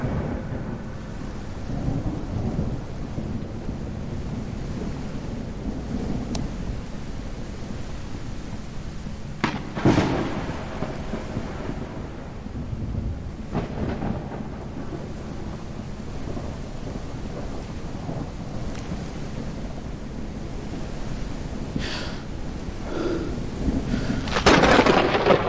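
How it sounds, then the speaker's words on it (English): A thunderstorm with steady rain and wind fills a first-person psychological horror game on PC, with repeated sharp thunder cracks and rumbles rolling over the constant downpour, and no talking. "I hope the storm won't be as bad as they say in the radio."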